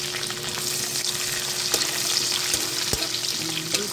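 Onions and browned garlic fry in a pan with a steady, close sizzle and crackle, while a few stirring scrapes and clinks cut through; no talk.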